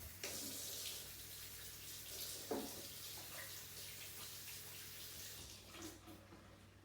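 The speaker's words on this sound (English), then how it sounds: "Let's wash our hands with soap." A kitchen tap runs steadily while hands are washed with soap, a soft continuous splash of water with a few small knocks and no voices.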